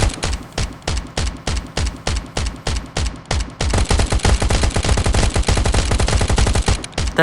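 Gunfire in the survival video game Last Island of Survival, with rapid, loud shots that come first as separate bursts and then merge into a dense, continuous stream of automatic fire, and no one speaking.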